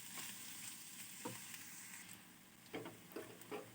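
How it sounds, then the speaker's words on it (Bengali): Onion and garlic with dried fish frying in oil in a home kitchen, a soft steady sizzle broken by a few sharper stirring scrapes, fairly quiet, no talking. "এটা এখন ভালো করে পেঁয়াজ আর রসুনটা সিদ্ধ হবে, তেলে ভাজা ভাজা হবে"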